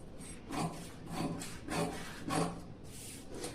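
Scissors slice through blouse fabric in several slow, rasping strokes that swell and fade about every half second, close and moderately loud, with no talking.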